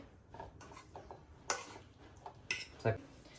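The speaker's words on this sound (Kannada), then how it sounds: "ಶುಂಠಿ ಬೆಳ್ಳುಳ್ಳಿದು ಫ್ರೈ ಮಾಡಿದ್ದಾಯ್ತು ಬೌಲಿಗೆ ಸರ್ವ್ ಮಾಡ್ಕೊತಾ ಇದೀವಿ" Fried ginger and garlic are spooned into a bowl, giving a few faint, sparse clinks and scrapes of utensil on dishware over a quiet room background.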